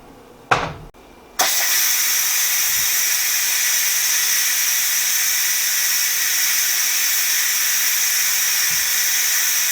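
A pressure cooker on quick release, holding a venison roast, lets out a loud, steady jet of hissing steam after a couple of clicks and a brief start, continuing unbroken and close.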